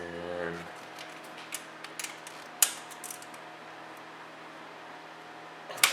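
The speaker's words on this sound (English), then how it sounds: "I'm just going to take the nuts off first" Nuts being loosened by hand while a Ford Focus ST transmission is taken off, a faint clicking and creaking of a ratchet with a few sharp metallic ticks over quiet shop background.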